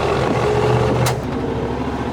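An old parts truck driving along, a continuous engine drone with a low hum, a brief bright burst near the middle, then the note drops slightly as it carries on.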